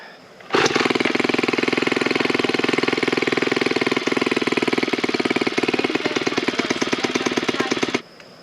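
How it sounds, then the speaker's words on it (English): A four-stroke weed whacker engine starts and runs loud and close for about seven seconds, a rapid steady putter with a slightly uneven beat before cutting off abruptly. "There's a weed whacker that won't get started, so we're going to see if we can get that started."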